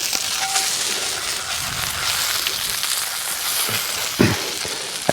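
A thick ribeye steak cooks over an outdoor campfire with a steady, close sizzle and a few faint crackles and pops, and no talking.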